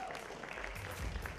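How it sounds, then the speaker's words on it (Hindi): Audience applause at a corporate award night, a short burst of steady clapping from a crowd, fairly faint. "एक बार जोरदार तालियाँ हो"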